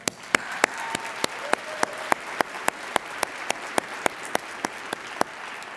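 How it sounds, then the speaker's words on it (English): Applause for nursing graduates at a recognition ceremony, a steady wash of many hands clapping in a large hall, with sharp individual claps standing out at regular intervals throughout. "please join me in another round of applause for them"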